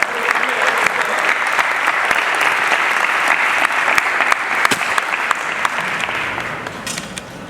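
An audience at a live motivational event in Washington, DC claps loudly for a young man called up to the stage, a dense, crisp burst of many hands sustained for several seconds before thinning out.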